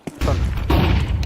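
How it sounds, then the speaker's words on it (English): A flashbang grenade in Counter-Strike 2 lands with a short thump, then a loud, sustained bang that fills the moment, close and forceful. "Throwing flashbang."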